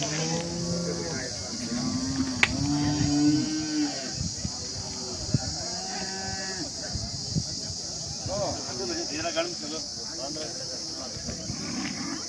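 Cattle moo repeatedly at Bagalur cow market near Hosur, several low calls in a row, with men chatting over the bustle and a steady high insect-like hiss.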